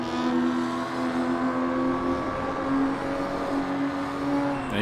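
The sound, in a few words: race cars driving at Sepang circuit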